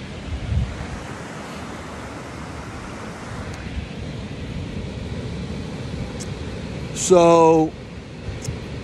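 Ocean surf at the Jersey Shore, a steady wash of breaking waves mixed with wind rumble on the microphone, continuous and moderately loud, with a short spoken word near the end.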